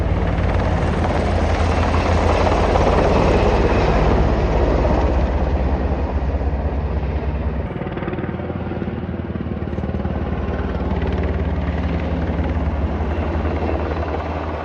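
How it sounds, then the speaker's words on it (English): A National Guard helicopter carrying a Bambi water bucket over a wildfire near a home, its loud, close rotor thump and engine roar filling the whole stretch and shifting slightly as it moves overhead. "the National Guard helicopter bringing over the Bambi basket full of water and coming quite close to our home"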